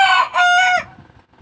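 A single loud rooster crow, close and clear, rising then trailing off into quiet.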